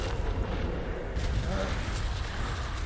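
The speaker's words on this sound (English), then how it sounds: "These fireballs are ridiculous." Fireballs explode during the Echo of Lilith boss fight in Diablo 4, a continuous barrage of rumbling, crackling booms in the game audio at moderate loudness.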